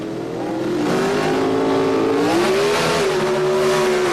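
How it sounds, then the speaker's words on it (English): A Pro Stock drag race car, an AMC Hornet, holds a loud, sustained engine drone whose pitch climbs slightly and wavers as it runs. "Here he is facing Andy Manarino, driving the Hornet X."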